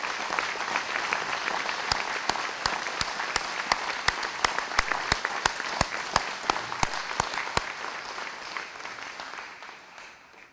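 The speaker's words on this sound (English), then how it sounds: "So get another big round of applause to all of our inductees." Audience applause for veterans inducted into the City of Hamilton hall of fame, a sustained crowd of clapping with a few sharp individual claps standing out near the front before it fades away toward the end.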